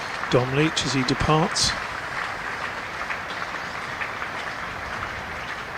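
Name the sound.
applause from cricket crowd as injured player departs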